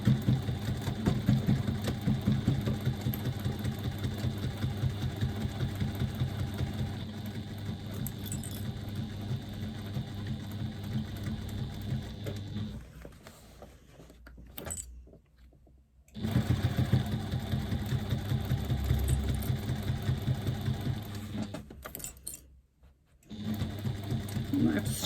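A sewing machine stitches around the top edge of a thick bag at a 1/4 inch seam allowance, running in a steady close hum for long stretches, with two brief pauses and no talk.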